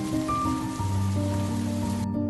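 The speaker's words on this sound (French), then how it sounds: "la météo était un peu capricieuse et il a commencé à pleuvoir" Steady rain falls outside, a dense continuous hiss of drops, with a sustained tonal hum mixed in and no talking.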